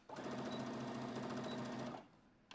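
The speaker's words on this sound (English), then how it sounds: "as I sew up to these last 2 pins here, I'm going to pull these 2 out and then we're going to end with a back stitch right here" A sewing machine stitches a pillow seam and ends with a back stitch, giving a close, steady mechanical whir for about two seconds before stopping, with a brief click at the end.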